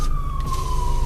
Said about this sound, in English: Okay, you can hear the sirens.